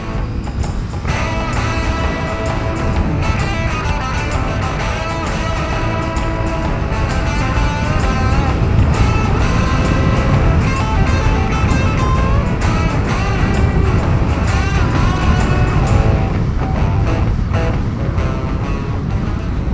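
Honda VFR 750 V4 sportbike ridden at speed, heard as a constant loud roar of wind rush over a buzzing engine note, unbroken throughout with no talk.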